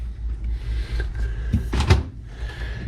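A freezer drawer on a Samsung fridge freezer in a tiny house on wheels is pulled open, giving a short sliding rumble and a clunk near the middle, close and fairly quiet, with low room hum throughout.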